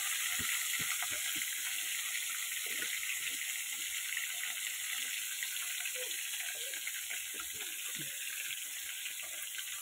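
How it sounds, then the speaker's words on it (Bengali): Fish pieces fry in hot oil in a pan, a steady bright sizzle holding throughout at moderate level, with faint scattered pops and spatters and no one talking. "তেল হয়ে গেছে গরম, এবার আমি দুটো দুটো করে মাছ ভেজে নেব ভালো করে"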